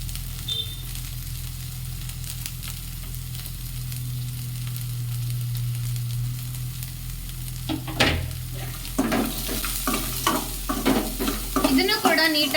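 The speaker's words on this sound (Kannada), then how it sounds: "ನಾನು ಕಟ್ ಮಾಡಿ ಇಟ್ಕೊಂಡಿದ್ದಂತಹ ಬೀನ್ಸ್ ಮತ್ತೆ ಕ್ಯಾರೆಟ್ ಮತ್ತೆ ಬಟಾಣಿ ಏನಿತ್ತು ಅದನ್ನ ಎಲ್ಲ ಹಾಕೊಂತ ಇದ್ದೀನಿ" Chopped beans, carrots and peas frying in oil in a pan, a soft steady sizzle first and then a run of close, rhythmic scraping stirs in the last few seconds.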